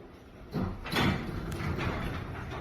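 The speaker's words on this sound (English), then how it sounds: "Now slowly raise up the door." An overhead residential garage door being raised slowly after a spring replacement, giving a rolling, rumbling slide with a couple of louder clunks near the start and a steady roll continuing to the end.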